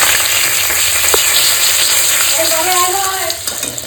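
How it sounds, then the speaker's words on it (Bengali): Fenugreek seeds, two dried chillies and three bay leaves sizzle in oil left from frying katla fish, a steady close hiss with a brief crackle and some faint kitchen noise. "ওই একই মাছ ভাজা তেলে আমি মেথি, 2টো শুকনো লঙ্কা, 3টে তেজপাতা পড়ে দিয়ে দেবো।"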